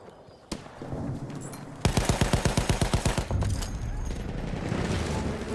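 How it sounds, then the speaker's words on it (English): Rapid machine gun fire in Battlefield 1, a close burst of about a dozen evenly spaced loud shots, with scattered battlefield gunfire before and after. "Enemy machine gun!"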